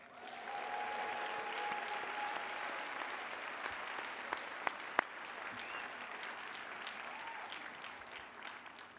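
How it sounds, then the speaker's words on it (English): Audience at a university Ph.D. hooding ceremony breaks into sustained applause. The even clapping holds steady for about nine seconds, with a few sharper claps standing out near the middle. "Let's give your advisors a round of applause."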